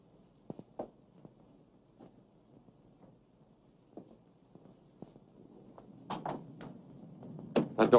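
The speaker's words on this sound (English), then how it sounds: "It sounded exactly as if someone was trying to pick the lock." An old wooden door, locked, rattled and knocked at by someone trying to open or pick it in a dark old house: scattered faint knocks and clicks, then a louder cluster of sharp raps and rattles near the end.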